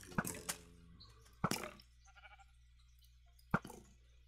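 Minecraft sheep bleating at low volume, three short separate bleats spread across the stretch with quiet game ambience between them.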